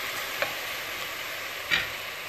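Moong dal being mixed into beetroot greens in a pan, a steady soft sizzle with two brief spoon scrapes close by.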